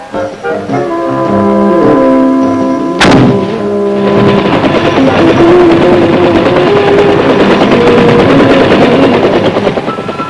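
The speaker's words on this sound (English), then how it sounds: "Mr. Mitchum is given the opportunity to fire some of the weapons of the real-life heroes in Vietnam." Bursts of automatic weapons fire from Vietnam War-era guns, with a sharp loud report near three seconds followed by sustained dense gunfire and rumble over a steady drone.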